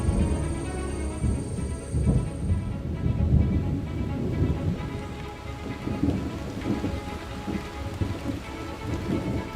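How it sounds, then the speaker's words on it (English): Heavy rain pours steadily in the Amazon rainforest during a thunderstorm, with low rumbling thunder rolling underneath the dense, continuous hiss of the downpour. "In the Amazon, storms hit with a fury like few other places on Earth."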